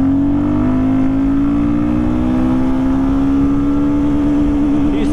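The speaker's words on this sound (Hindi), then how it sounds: "एक बार 60 पे लेके आते हैं बाइक को" A Royal Enfield Guerrilla 450 motorcycle pulls hard in third gear, its engine note climbing steadily in a loud, continuous drone recorded close up for the whole stretch.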